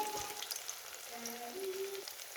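Potatoes fry in hot oil with a steady, close, crackling sizzle, and no one speaks over it.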